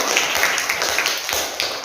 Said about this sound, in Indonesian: tepuk tangan dulu untuk Hasan